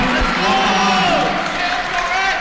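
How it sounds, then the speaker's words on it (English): Home crowd in a high school gym cheering at a regional girls' volleyball match, a steady loud roar of voices and whoops filling the room with some talk mixed in. "It's great to have a nice crowd here today."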